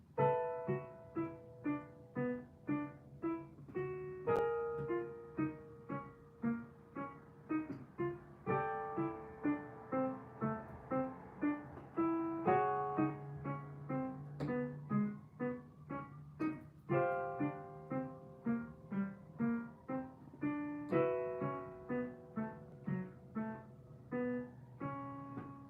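A piano plays a Jazz Hanon exercise moving downward in steady, evenly spaced patterned notes, clear and close with no talking.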